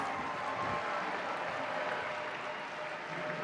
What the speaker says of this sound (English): round of applause for Alliance 8